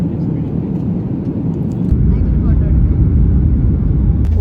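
Loud, steady rumble of an airliner's engines and cabin noise as the plane lands on a flight to Mumbai, the roar swelling after a couple of seconds as reverse thrust or runway contact kicks in.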